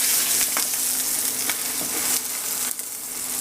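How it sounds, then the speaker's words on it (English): Wagyu steak sears in a hot pan with a continuous bright sizzle and a few sharp spatters and scrapes, loud and close, easing slightly near the end, with no speech. "With Wagyu you want to sear it both sides to seal the meat"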